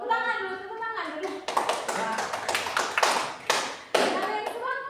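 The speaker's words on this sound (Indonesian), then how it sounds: "Tepuk tangan dulu, tepuk tangan dulu" Children clap their hands in a classroom lesson on congruence and similarity, a few bursts of clapping near the microphone, with a teacher's voice speaking over the start and between the claps.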